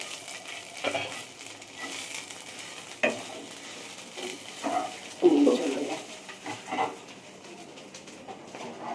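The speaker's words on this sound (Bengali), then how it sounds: "মা এই খারকোল পাতাটা বেটে আর ওইটা ভাজছে" Paste of ground kharkol leaves fries in a pan with a soft, ongoing sizzle broken by clattery stirring strokes, while a pigeon-like coo seems to sound faintly in the background.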